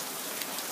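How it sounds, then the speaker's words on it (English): Steady rain falls in Houston during Hurricane Harvey, a dense even hiss of drops on surfaces close by, with no voices or thunder. "This is about normal as far as the rain goes."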